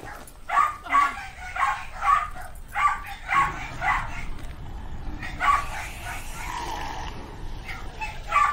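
Dog barking in a video game: a run of short, evenly spaced yips and barks, fairly close and loud, with a brief pause midway before more barks.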